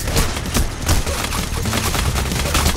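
Enemy gunfire in the heist shooter Payday: The Heist, a loud continuous fusillade of rapid automatic shots with overlapping bursts, dense and close throughout without speech.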